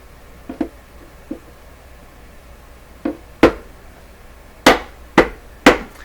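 Sharp metallic hammer blows from an old machine-shop hammer ring out alone while working on a Crosley 12B radio: a few light taps, then a cluster of five hard, evenly spaced strikes close by.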